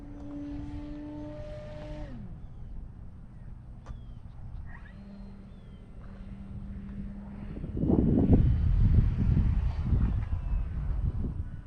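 An E-flite Carbon Z T-28 RC airplane flies overhead, its propeller and electric motor whine shifting in pitch as it passes, then fading under growing gusts of wind noise on the microphone.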